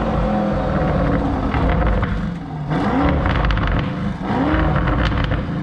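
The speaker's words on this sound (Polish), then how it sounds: "Lamborghini nie nazywa tego wydechu sportowym, tylko nazywa go wprost wyścigowym" A Lamborghini Urus exhaust in sport mode roars loud and close, rising and falling through two distinct revving swells with a throaty, growling engine note and no voices.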